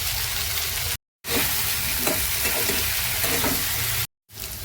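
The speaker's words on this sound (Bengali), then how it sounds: "আলু পেঁয়াজ ভাজা ভাজা হয়ে গেছে" Potatoes and onions frying in oil in a pan, a continuous close sizzle broken by a few stirring scrapes, with two brief silent gaps where the sound drops out.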